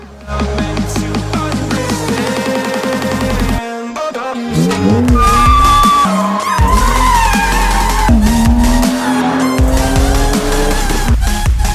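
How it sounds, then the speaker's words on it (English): A stock 2020 Toyota Supra Mark V runs on a dyno, its engine climbing through the gears in loud, continuous pulls with brief dips at each shift, rising pitch, close and alone. "the first stock Mark V Supra was just put on the dyno"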